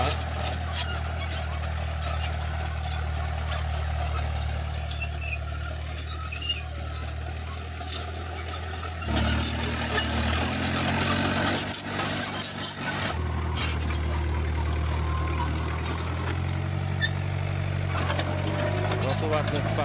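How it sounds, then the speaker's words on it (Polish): A tractor works on earthworks at a rural plot in Sicily, its engine giving a steady low rumble that rises and falls as it drives past, heard under people talking. "jak traktor przejeżdża"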